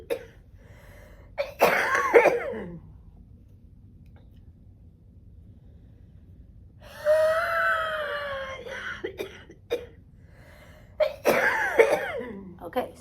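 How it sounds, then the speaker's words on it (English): Cystic fibrosis patient doing huff coughs during a chest physiotherapy session: several short bursts of coughing and forced breathy exhalations, separated by quiet pauses, close and fairly soft. "she's coughing quite a bit, and this is great because she is able to get this mucus up"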